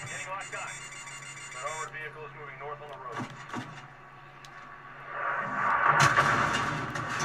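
Repeated electronic warning beeps sound each time the flare button is pressed in the Modern Warfare 2 campaign, mixed in among loud explosions, gunfire and other game effects.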